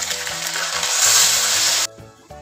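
Tomato paste made from blended tomatoes sizzles loudly in a hot pan while biryani is cooked, a dense steady hiss that cuts off abruptly near the end, with faint clinks underneath.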